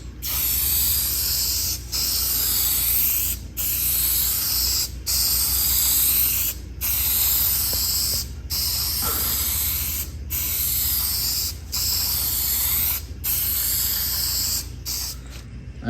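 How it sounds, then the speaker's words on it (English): Vinyl sealer sprayed in a thin coat onto a Broyhill Brasilia highboy dresser, coming as about ten steady hissing bursts of a second or so each, separated by brief pauses, close and loud. "So this is the vinyl sealer. Gonna give a thin coat of this on there."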